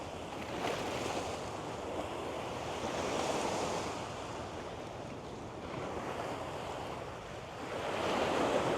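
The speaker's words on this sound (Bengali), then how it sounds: "এই যে ঢেউগুলা যে দেখতেছেন" Ocean waves break and wash ashore on a beach in Singapore in broad, rolling surges, with wind buffeting the microphone; no voices.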